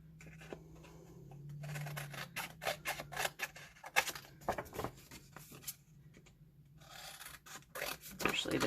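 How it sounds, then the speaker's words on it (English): Scissors cut the flaps off a paper envelope, giving a series of close, crisp snips and rustles of paper, irregular and fairly quiet, with brief soft rubbing between cuts. "Then cut these flaps off on the outside."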